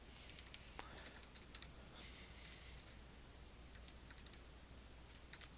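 Fingers tapping on a calculator keypad, a quick irregular run of faint light clicks close by under a soft background hiss.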